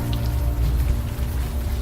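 Rain in the adventure game Unavowed falls as a steady, dense patter with a low rumbling wash underneath, close and continuous throughout the short stretch, with no talking over it.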